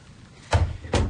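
A door effect in a radio drama studio: two quick, close knocks or thuds about 0.4 seconds apart, sharp and fairly loud with no voices.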